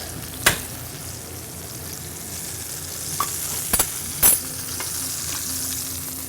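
Stuffed branzino just out of the oven gives off a steady, faint sizzle, with a few sharp clicks and clinks of utensils breaking through the quiet hiss.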